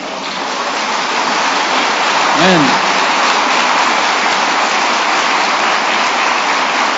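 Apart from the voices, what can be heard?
church congregation applause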